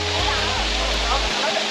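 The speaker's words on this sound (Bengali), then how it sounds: "পুরো 108টা ধারা আছে, মানে 108টা এরকম জলস্রোত দেখতে পারবে।" Water pouring from the 108 stone spouts at Muktinath temple in Nepal, a loud continuous rushing splash heard close, with voices mixed in.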